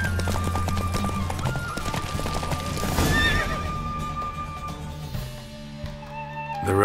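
The horse Roach gallops in a race in The Witcher 3, hooves clip-clopping in a steady rapid rhythm with neighs and whinnies over continuous game music, loud and close throughout.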